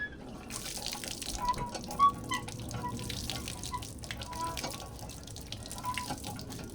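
Tap water runs and splashes into a sink at a moderate distance, a soft continuous wash with small drips and knocks, quiet overall.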